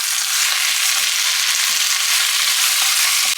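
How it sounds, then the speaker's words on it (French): Sliced onions frying in hot oil in a pot, a loud, dense, continuous hiss with a few faint knocks of stirring underneath, close and without speech. "Lorsque l'huile est chaude, j'y ajoute mes oignons émincés"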